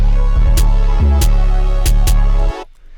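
Loud, booming 808 bass notes at full velocity in a UK underground beat, with punchy, heavy low end, accompanied by sharp hi-hat-like clicks, cutting off abruptly near the end.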